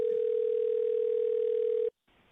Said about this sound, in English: Now listen to this phone call.